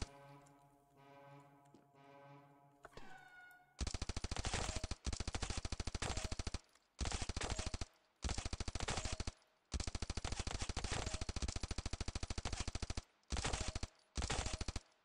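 Assault rifle fire in a mobile shooter game running on the Bluestacks emulator on PC: several long, loud full-auto bursts with short gaps between them, after a brief stretch of quieter game sound.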